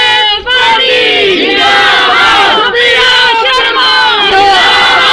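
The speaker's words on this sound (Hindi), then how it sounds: "जोर शोर से नारे हो रहे हैं" A loud, dense crowd chants election campaign slogans in unison at a ward councillor candidate's rally, voices rising and falling in rhythmic waves, very close and filling the whole stretch.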